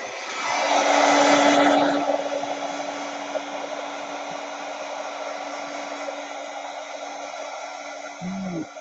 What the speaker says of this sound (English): I'm going to get my heat gun out for a minute and just dry that flower a little bit. So this is going to be noisy.